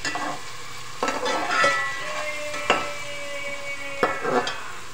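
Onions frying in oil for a masoor pulao, with a steady close sizzle and occasional sharp clinks of a spoon stirring against the pan, no voices.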